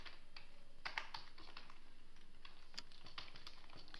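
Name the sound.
typing JavaScript code on a computer keyboard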